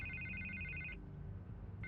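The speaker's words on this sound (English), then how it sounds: "I can't get the phone to stop ringing" A telephone rings in Telltale Batman, two bursts of a sharp electronic trilling ring split by a short pause, heard over a low steady background hum.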